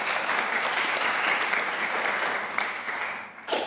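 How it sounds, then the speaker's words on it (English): An audience claps for volunteers at a community event, a dense and steady round of applause that holds evenly for several seconds, then thins and fades. "could we give this, the volunteers, a round of applause before we even begin?"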